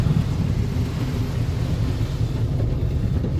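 Loud, steady rushing spray of a car wash hosing down a Chevrolet Silverado pickup, a continuous broadband roar with deep rumble and no talking over it.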